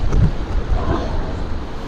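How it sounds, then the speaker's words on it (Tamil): Floodwater waves surge and splash through flooded Jaffna streets during heavy rain, a steady close rush of water with wind buffeting the microphone and no talk. "பயங்கர தண்ணி அலைய அடிச்சு கொண்டு"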